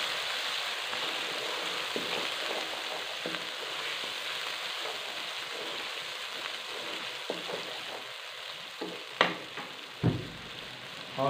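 Ginger garlic paste fries and browns in a pan with a continuous close sizzle and crackle, scattered stirring scrapes, and a few sharper utensil knocks toward the end.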